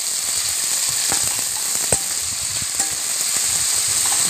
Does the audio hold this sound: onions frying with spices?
yes